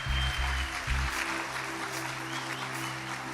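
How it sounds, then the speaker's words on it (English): An audience at a national honours investiture ceremony applauds a group of honorees, with steady, moderately faint clapping heard alongside a low sustained hum and a few deep thumps early on. "Let's give all of our honorees in that first grouping a round of applause."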